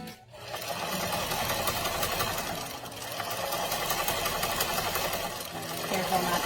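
A sewing machine stitches stretchy knit fabric for a scrunchie, its needle running in a fast, steady mechanical chatter close up, pausing briefly at the start and then continuing unbroken.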